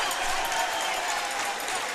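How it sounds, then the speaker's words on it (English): High school basketball crowd roaring in a gym after a disputed foul call, a dense sustained wash of cheering and shouting voices, loud and steady for the whole moment. "And the Lawrence County crowd erupts."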